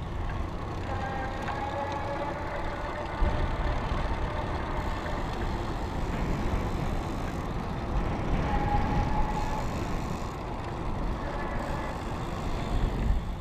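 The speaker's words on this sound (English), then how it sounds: "So you can hear it a little bit more because it is geared" A geared hub motor on an EZ Pedaler T500 electric bike runs under pedal assist, giving a low, steady whine and hum mixed with road and wind rumble throughout.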